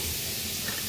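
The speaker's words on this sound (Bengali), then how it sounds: "খুন্তিটা অনেক সাউন্ড হয়" A spatula scrapes a pan as potatoes fry in oil with turmeric and salt, one brief burst of sizzling and stirring close by.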